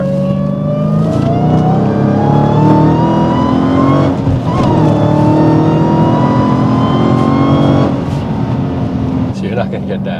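A Dodge Hellcat's engine roars loud and close as the car accelerates, its pitch climbing steadily through a sustained pull before easing off near the end.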